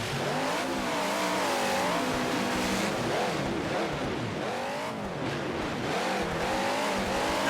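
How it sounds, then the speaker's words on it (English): Monster trucks racing head to head in a round-one arena event, engines revving hard and roaring continuously near and loud throughout, with rising and falling throttle sweeps. "Both trucks kind of bobble the final turn, and Will Thompson's going to pick it up first and get the win here in round 1"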